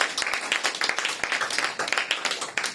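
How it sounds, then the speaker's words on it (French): A church congregation claps and applauds in praise, dense rhythmic clapping from many hands, steady and lively throughout. "Acclamez un peu pour la gloire du Seigneur"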